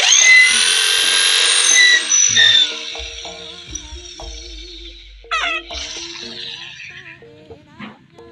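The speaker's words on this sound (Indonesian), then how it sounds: "Kita bor gitu." A high-pitched power drill whirs loudly at first, then gives shorter intermittent bursts with pauses and clicks between them.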